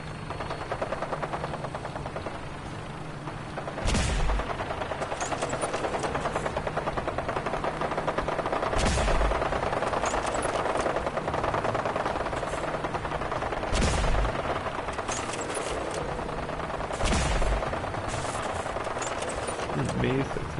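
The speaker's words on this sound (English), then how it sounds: "I'm amazed that so many shots are actually landing." Gunfire in the video game Fallout 4, dense sustained automatic shooting with heavy booming impacts every few seconds, loud and continuous throughout.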